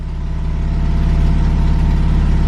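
Fiat Cinquecento 700 engine fitted with a Fiat 126p carburettor idles on a first start, a loud, close, steady low pulsing drone with slightly low revs and no talking.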